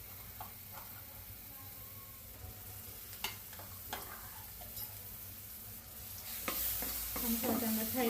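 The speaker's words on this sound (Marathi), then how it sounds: "मसाला चांगला फ्राय करून घेऊ आता आपण" Ground onion-garlic masala paste frying in a pan, a low steady sizzle broken by several sharp clicks and scrapes of a spoon, with the sizzle swelling louder toward the end; no talking.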